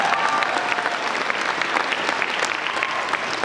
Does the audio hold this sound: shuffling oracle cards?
no